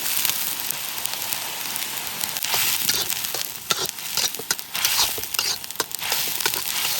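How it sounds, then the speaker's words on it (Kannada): Ginger and garlic paste frying in hot oil for an egg chicken dish, giving a steady crackling sizzle with scattered sharper pops, close and continuous without speech. "ಎಣ್ಣೆಯಲ್ಲಿ ಈ ರೀತಿ ಫ್ರೈ ಮಾಡ್ಕೊಳ್ಳೋಣ ನೀಟಾಗಿ ಶುಂಠಿ ಬೆಳ್ಳುಳ್ಳಿ ಸ್ಮೆಲ್ ಎಲ್ಲ ಇರಬಾರ್ದು ಅಂತ ಈ ರೀತಿ ಫ್ರೈ ಮಾಡ್ಕೋಬೇಕು"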